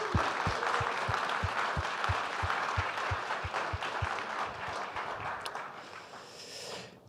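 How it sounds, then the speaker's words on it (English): An audience at the Maker Challenge Hamburg wrap-up applauds the makers with sustained crowd clapping, while a rhythmic low thumping of stomps or beats runs under it for the first few seconds before the applause tapers off. "a round of applause for all the makers"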